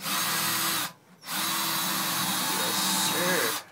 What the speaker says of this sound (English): Drill a hole down into the dado